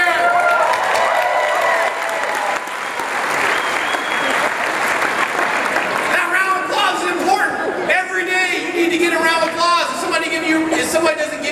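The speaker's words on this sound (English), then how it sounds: "Give yourselves a big hand." A seated audience in a hotel ballroom claps loudly and continuously during a live stage show, with some cheering, and voices talk over the applause throughout.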